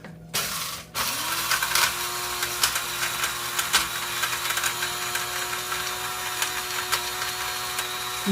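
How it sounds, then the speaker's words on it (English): An electric spice grinder running in a home kitchen starts up after a click and holds a steady, loud mechanical whir with rattling grinding for several seconds, no voices. "time for grinder."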